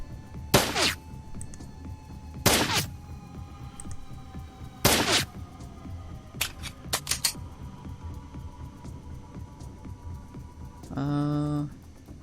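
Gunfire in the Shadowrun: Dragonfall game, three sharp loud shots spaced a couple of seconds apart followed by a quick cluster of smaller pops, over a low steady hum.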